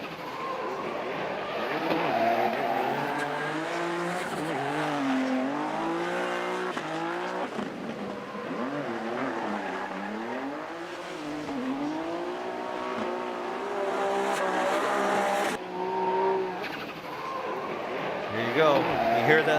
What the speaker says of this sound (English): You hear the turbo sound there?